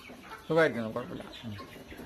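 Native country hens on a home poultry farm cluck in a short burst of loud, close calls, followed by quieter clucks, with a voice speaking faintly nearby.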